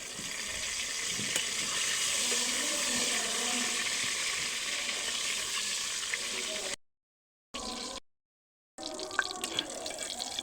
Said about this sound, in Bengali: তেলটা একটু হালকা গরম হয়েছে, আমি কিছু এখানে তেজপাতাকে মাঝখান থেকে ছেড়ে নিচ্ছি